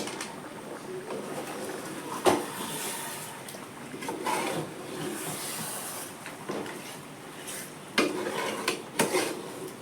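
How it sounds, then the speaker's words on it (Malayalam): A spoon stirs chicken curry in a metal pot, scraping and clinking against the sides in irregular strokes, with a few sharper knocks standing out over a low background hiss. "നമുക്കൊന്ന് ഇളക്കി കൊടുക്കാം."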